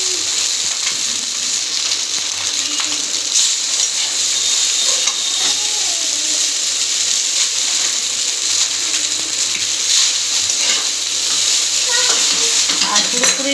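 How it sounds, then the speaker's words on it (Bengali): Boiled chowmein noodles, rinsed in cold water, are stirred and tossed in a pan for egg chowmein. A steady sizzle runs underneath continuous scraping and clicking stir noises, close and fairly loud. "এবার ভালো করে নাড়াচাড়া করে নেব।"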